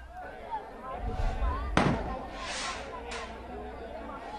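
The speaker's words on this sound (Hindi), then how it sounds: "इस वक्त भी आतिशबाजी हो रही है, कुछ आवाज भी आ रही है" Fireworks set off outside Arshad Nadeem's house during a celebration: a couple of sharp, fairly distant bangs ring out amid crowd chatter and someone talking.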